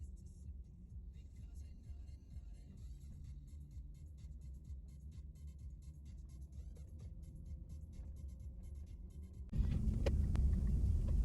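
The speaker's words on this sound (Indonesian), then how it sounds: "enak ini denger raungan mesin mobil pas nanjak di jalanan begini." A steady low car engine drone rumbles continuously from inside the vehicle while climbing uphill on a Bali road, growing noticeably louder and heavier near the end.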